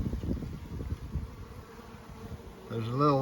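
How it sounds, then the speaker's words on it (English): Honeybees buzz in a Langstroth hive during a spring inspection, a close, dense, fluctuating drone that dips midway and swells again at the end. "A lot of bees in here."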